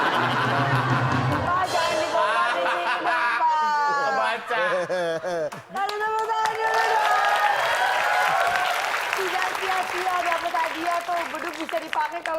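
Studio audience at an Indonesian comedy show applauds and cheers loudly for several seconds, with voices and laughter mixed in.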